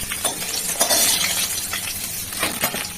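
Fish frying in hot oil are turned over in the pan, a crisp sizzle with a few metallic scrapes and clinks of the utensil against the pan, close and fairly loud.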